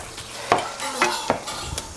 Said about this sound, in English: I'm also cooking up some of this ground beef here for